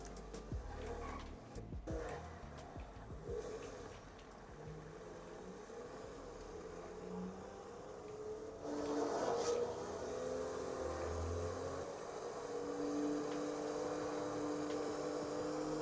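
A car driving through city streets in a video game, with a steady engine hum that rises and swells partway through, heard alone at a moderate, even level.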